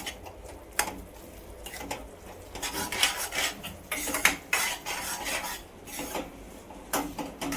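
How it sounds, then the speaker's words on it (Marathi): Chicken tikka biryani marinade with yogurt being stirred in a bowl, giving irregular scraping, clinking and rubbing strokes of a spoon against the dish, close and fairly quiet. "आता आपण हे सर्व जे टाकलेले आहेत पदार्थ ते सगळे मिक्स करूया व्यवस्थित"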